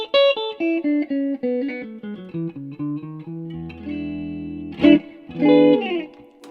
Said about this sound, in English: the reverb in here, as I said, is a digital reverb